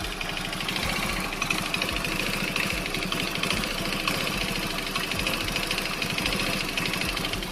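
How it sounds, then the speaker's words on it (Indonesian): A Honda Vario carburetor scooter engine idles close by with a steady, rapid, slightly knocking putter and no speech. "jadi ini untuk motornya sudah hidup"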